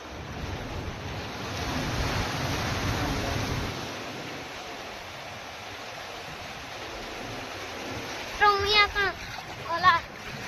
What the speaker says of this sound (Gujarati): મિત્રો સાંભળો ડેમ નો અવાજ.